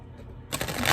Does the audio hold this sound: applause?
no